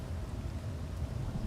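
Steady soft rain hiss in a video game, a quiet, even wash of falling rain with low rumble beneath and no voices.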